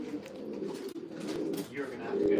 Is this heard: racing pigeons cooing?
yes